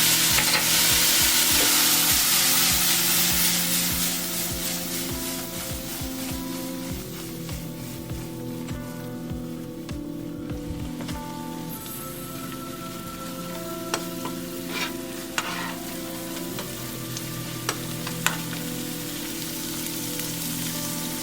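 A pan sauce of stock, salt, black pepper and butter sizzles and bubbles steadily, loud at first and then settling into a softer continuous crackle with occasional clinks of a utensil, no talking.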